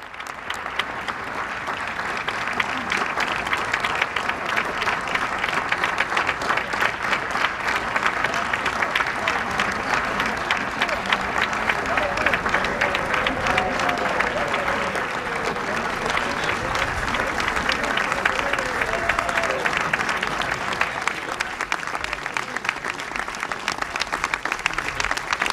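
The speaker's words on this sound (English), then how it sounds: "Let's listen in as he gets this round of applause." In the White House Rose Garden, a crowd gives the president long, sustained applause, steady dense clapping with a faint murmur of voices underneath.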